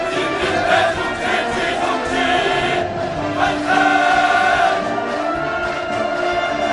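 Massed crowd of people from North Hamgyong, Rason and Ryanggang cheering enthusiastically at a Pyongyang city mass rally, a dense, sustained roar of many voices that swells and continues at steady loudness throughout.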